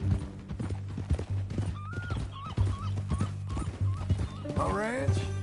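Steady clip-clop of horse hooves in a trotting rhythm in the video game Red Dead Redemption 2, with a horse whinnying near the end, over background music and a low drone.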